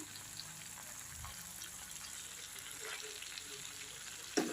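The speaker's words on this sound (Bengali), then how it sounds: "চিকেনটাকে খুব ভালো করে আমি মিশিয়ে নিচ্ছি" Chicken is stirred with spices in a pan for chili chicken, giving a soft, continuous frying sizzle with light scraping and stirring sounds and one sharp clatter near the end, and no talk.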